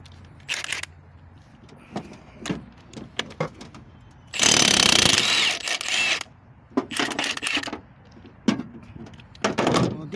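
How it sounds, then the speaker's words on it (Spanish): An impact wrench with a 24 socket removes the central nut from a driveshaft, giving one long loud burst of rattling hammering among shorter clanks and mechanical knocks in a workshop. "Tienes un impacto de estos rápidos"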